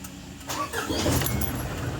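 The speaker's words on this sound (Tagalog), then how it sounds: "Start ko na nga itong makina mga boss" An Isuzu Elf truck engine starts up, a brief cranking followed by the motor catching and settling into a steady rumble, fairly close and alone.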